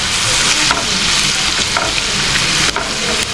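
Ginger and garlic fry in hot oil while being stirred, a loud dense sizzle running throughout with periodic scraping strokes of a spoon against the pan, no voices.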